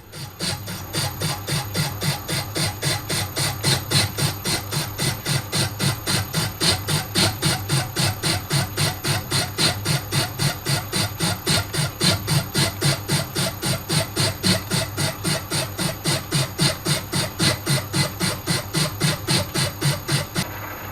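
A machine cuts metal stock for the cylinder head of a hit and miss engine, producing a loud, steady chatter with a high squeal that pulses evenly about three times a second without a break.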